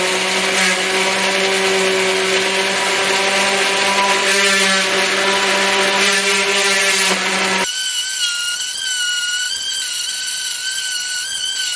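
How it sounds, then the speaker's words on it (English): A power sander whines as it smooths a wooden tatami cutting stand, a loud, steady tonal drone close by that shifts pitch partway through and keeps running to the end. "our final step is just going to be to give this a little bit of love with our sander"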